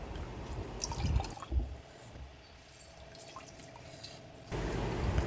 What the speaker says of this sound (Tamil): இது மாதிரி வடிச்சிட்டு இப்போ தண்ணி ஊற்ற ஊற்ற சூடுடைய அளவு குறையும்